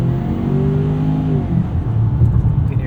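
A 2023 Ford Maverick XLT Tremor in sand off-road mode with four-wheel drive engaged sends artificial engine sound into the cabin: a steady, moderately loud drone with gently rising tones.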